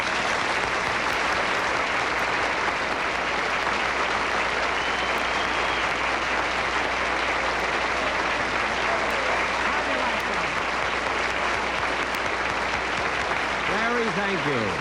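Sustained, loud studio audience applause greeting Jack Benny on the Lawrence Welk Show, a steady roar of many hands clapping that holds for the whole stretch.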